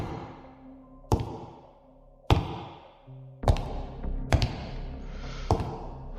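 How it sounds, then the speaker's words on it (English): Loud, slow footsteps entering a hall, used as a horror animation sound effect: five heavy, evenly spaced thuds about a second apart, each ringing briefly in a quiet, echoing space. "The front door opened and loud but slow footsteps entered the hall"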